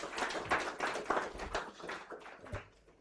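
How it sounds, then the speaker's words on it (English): Guests at a formal dinner give the Governor a round of applause, a fairly quiet scatter of individual hand claps that thins out and tapers off over a few seconds. "Another round of applause to the Governor."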